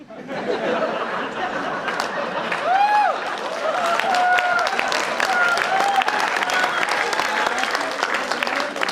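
A crowd at a Ruby Diamond celebration event breaks into sustained, loud applause and clapping, with scattered chatter and light laughter mixed in throughout.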